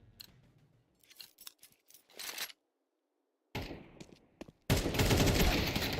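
Gunfire in an esports video game firefight: scattered quick clicks and short bursts, a brief silence, then loud sustained rapid shooting close up.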